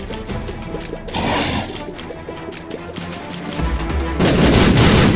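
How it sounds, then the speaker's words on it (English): Troll bombs exploding in The Binding of Isaac, a burst of loud crackling blasts over game music, with heavier rumbling booms swelling near the end. "Troll bombs everywhere."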